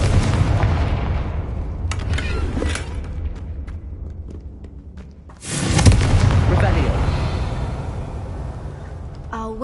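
Confringo fire spell explosions in the video game Hogwarts Legacy: rumbling blasts early, then a sharp, loud detonation midway that fades into a long rolling decay.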